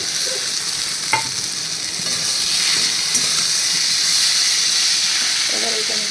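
Paneer frying and being stirred in a hot pan, a loud, continuous sizzle and hiss with occasional scraping stirs, close up, as a voice speaks briefly near the end.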